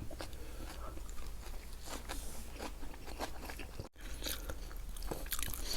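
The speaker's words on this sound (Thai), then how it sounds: "เคี้ยวอย่างเดียวเลยไม่ได้พูด คำมันใหญ่ก็จะเคี้ยวเสร็จ" Big mouthfuls of raw oysters and large scallops chewed close up, wet crunchy bites and squelching mastication running steadily throughout with no talk.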